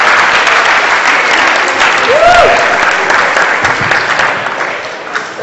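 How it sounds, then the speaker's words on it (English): A round of applause fills a students' meeting hall after a motion passes, many hands clapping loudly and steadily before slowly thinning out toward the end, with a brief vocal sound partway through. "Let's have a round of applause for that."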